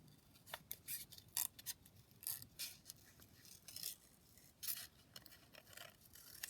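Scissors cut a paper rosebud out for a collage, with close, repeated crisp snipping and rustling paper in quick bursts and no talking.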